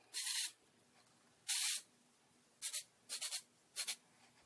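Bursts of a beauty product spray from an aerosol can: two longer hissing sprays, then a quick run of shorter puffs, close and fairly quiet.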